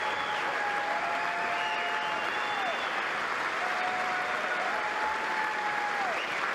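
Members of Congress applaud Netanyahu in a long, steady wave of clapping and cheering that fills the chamber, with whistle-like cries rising over it and no talk on top.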